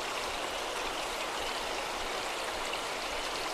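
A big river flowing past a village gives a continuous, even rushing hiss of water with no breaks, fairly soft and steady throughout.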